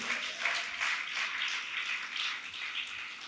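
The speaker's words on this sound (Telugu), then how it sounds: "అర్థమైన వాళ్ళు చప్పట్లు కొట్టండి." A church congregation clapping together at a service, a fairly faint, steady wash of many hands with a loose rhythmic pulse, heard at a distance.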